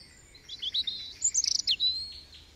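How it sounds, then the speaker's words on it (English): Birds of a dawn chorus, including robin, blackbird and song thrush, sing bright chirps and warbled phrases in a quick run of close, clear notes with no voices. "But at the moment you've got robin, you've got blackbird, song thrush."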